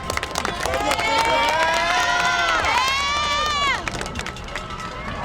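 A youth football crowd at a 10U Super Bowl state championship celebration cheers and shouts loudly, with excited children's voices, whoops and some clapping rising together in a close, sustained roar.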